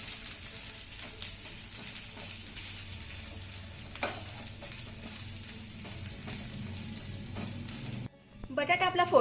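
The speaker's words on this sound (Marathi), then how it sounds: "आता हा घातलेला बटाटा ना फोडणीमध्ये आपण चांगला मिक्स करून घेऊया." Mashed potato being stirred into a sizzling tempering in a pan. A steady, close frying sizzle with soft scraping and stirring runs throughout, and the sizzle quiets abruptly near the end before a few brighter clinks and crackles.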